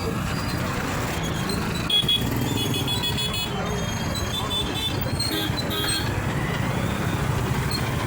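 A traffic jam on a street in Bhubaneswar city, with a dense steady wash of car, motorcycle and truck engines, scattered horn toots and general road noise that continues without pause, close and loud.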